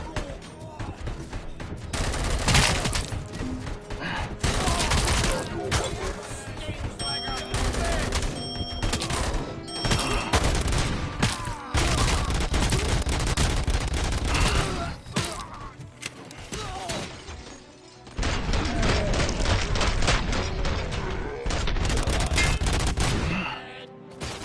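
Loud, sustained gunfire from the video game Robocop Rogue City, with dense bursts of shots and rapid automatic fire ricocheting off walls, brief pauses between volleys and a faint voice underneath.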